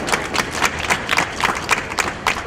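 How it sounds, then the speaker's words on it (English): An audience at a public press event about a city audit claps steadily in dense, crackling applause for a couple of seconds, with no talking over it. "Please give him a round of applause, everybody."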